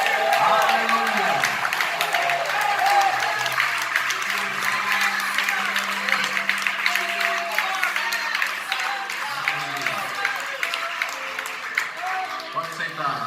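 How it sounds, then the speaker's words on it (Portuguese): Church congregation applauding during a worship service, steady dense clapping throughout with voices and cheers mixed in. "Você pode aplaudir o Senhor."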